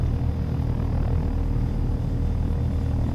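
Helicopter engine in the flight simulator game Take on Helicopters, a steady low rumbling drone with a constant whine, heard close and alone without talk.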